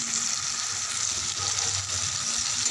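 Spices sizzle in a pan as they are sautéed with half a spoon of turmeric and half a spoon of salt, a steady, close crackling hiss that holds evenly without pause.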